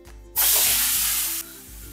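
Cut potatoes drop into hot oil already seasoned with cumin seeds and turmeric, setting off a loud, sudden burst of sizzling hiss that holds for about a second before easing to a softer, steady frying crackle.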